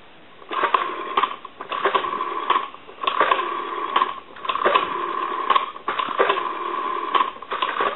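Rotary dial of an Entel desk telephone turning and clicking back as numbers are dialed, repeated whirring runs of fast ticks in about five bursts separated by brief pauses, close and clear with no talk.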